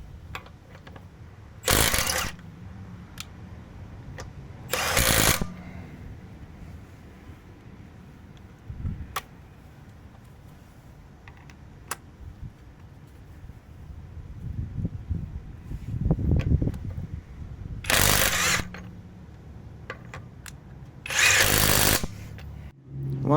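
Parkside Performance and Milwaukee stubby impact wrenches hammer at car lug bolts that a tire technician tightened seven months earlier, several loud, short bursts of rattling impacts separated by quieter stretches of handling and clanks.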